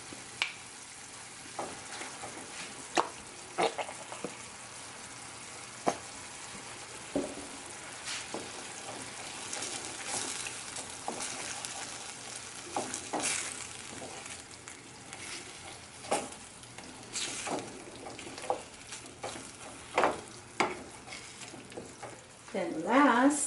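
A vegetable and mushroom filling with tomato ketchup frying quietly in a pan, with intermittent stirring scrapes and light utensil clicks, a soft sizzle underneath.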